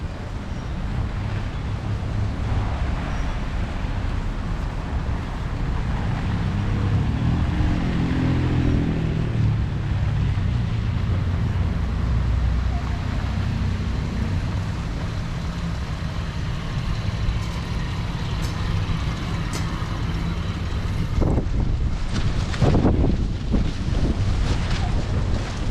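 Strong wind from a nor'easter snowstorm in New York roars and buffets the microphone in a constant loud rush, with heavier gusts and rumbling toward the end.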